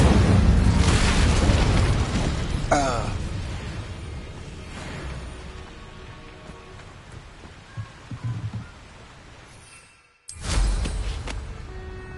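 A blasting-curse explosion from a Harry Potter video game: a loud, dense roaring burst that dies into a long crackling rumble, then a brief gap of silence and a second heavy blast, with no voices.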